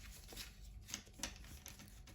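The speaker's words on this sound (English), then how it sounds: "I'm going to give them a bit of a shuffle." Paper strips carrying written words are shuffled by hand near the microphone, giving faint, quiet rustles and a few soft flicks with no voices.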